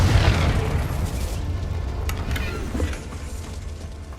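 Confringo blasting spell going off in Hogwarts Legacy, a loud low boom at the start that rolls into a sustained rumbling decay, with a few faint crackles and pops trailing through the tail.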